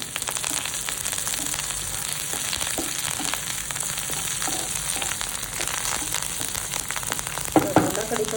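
Curry leaves fry in a pan with onion, giving a steady dense hiss and crackle of hot oil throughout, joined near the end by a few brief scraping strokes of a spoon stirring.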